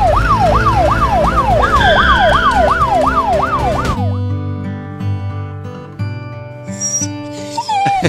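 An ambulance siren in the Roblox Brookhaven game, a loud rapid wailing cycle for about four seconds that cuts off abruptly, followed by game music and sound effects.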